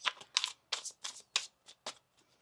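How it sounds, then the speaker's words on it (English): Tarot cards being shuffled by hand, a quick series of crisp riffling bursts, close and fairly soft, with short pauses between them. "One more shuffle here."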